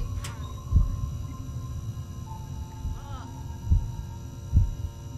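Heartbeat effect from the Backrooms horror game, a few low thumps spaced irregularly under a steady hum, with faint speech-like sounds in the background.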